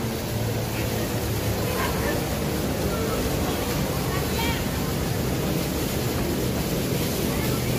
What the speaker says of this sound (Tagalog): Malakas ang buhos ngayon ng tubig.